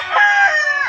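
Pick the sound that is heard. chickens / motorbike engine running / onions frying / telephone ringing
chickens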